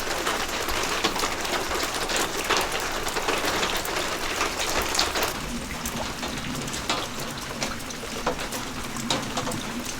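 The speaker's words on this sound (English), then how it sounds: "now it's pouring rain" Heavy spring rain pours down outdoors near a lake, a dense patter of countless drops hitting surfaces at a steady, loud, continuous level, with no voices.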